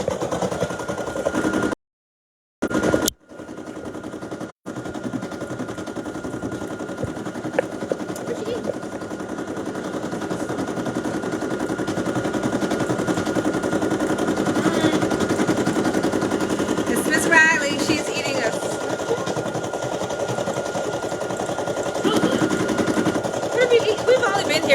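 An embroidery machine stitching out a Father's Day design, a fast, steady mechanical rattle that drones on continuously at close range after a couple of brief pauses near the start.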